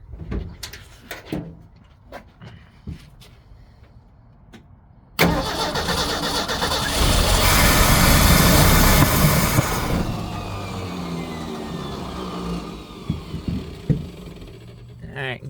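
A 1974 Ford farm-find engine cranks and bursts into a loud, roaring start, revving hard for several seconds before settling to a rough idle, with quiet clicks and shuffling beforehand.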